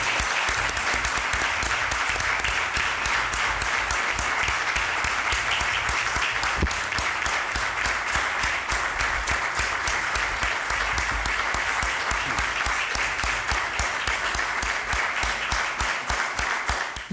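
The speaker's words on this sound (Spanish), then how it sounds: "si ahora viene un aplauso," Sustained audience applause at a Day of the Republic commemorative event, a long, steady roll of many hands clapping with a faint rhythmic pulse running through it, holding evenly at moderate loudness.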